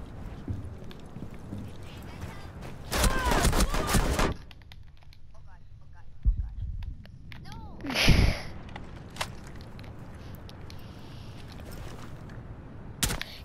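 Pistol shots ring out in Rainbow Six Siege, a sharp burst near the start followed by a few isolated cracks spread across the clip, each loud and abrupt against quieter game background.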